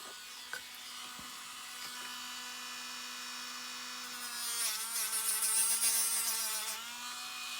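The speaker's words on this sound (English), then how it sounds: "We'll take and grind that again." Small rotary grinder smoothing burrs off a metal spoon pendant, a thin high whine that steadies, then grows louder and rougher as it bites the metal, with a few light taps early on.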